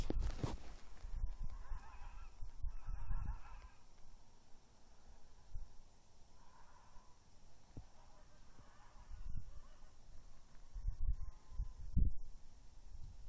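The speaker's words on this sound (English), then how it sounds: "A whole bunch of ducks." A flock of large ducks or geese honking along a road near Hamilton and Long Lake, with scattered calls bursting out at moderate distance over steady outdoor background noise.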